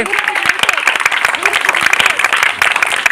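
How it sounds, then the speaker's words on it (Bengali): A group of people claps hands together at a local outdoor game, making a dense burst of rapid, uneven claps mixed with excited voices and chatter. "তাহলে জোরে একটা হাতে তালি দিও সবাই একসাথে"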